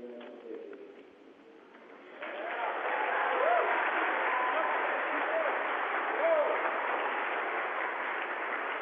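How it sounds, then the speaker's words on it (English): Applause from a group of New Jersey students during a downlink with the International Space Station crew, a steady band-limited clapping that swells in after a quiet start and carries on evenly, with faint radio-like noise. "I'm hoping you heard those applause."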